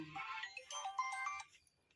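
A phone ringtone plays a short electronic melody for about a second and a half, then cuts off into quiet.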